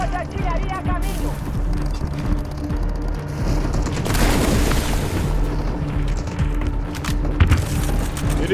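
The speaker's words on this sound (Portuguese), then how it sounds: "Salva de artilharia a caminho." Artillery salvo explosions in the Delta Force Mobile video game, a continuous barrage of deep booms and blasts swelling to a loud peak midway, with game voice lines and battle noise over the rumble.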